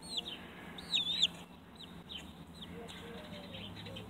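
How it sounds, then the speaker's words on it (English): Thirty-day-old Buff Orpington chicks peep and cheep in thin, high chirps, with a few louder calls near the start and softer clucking scattered over a quiet farmyard background. "30-day-old buff Orpingtons."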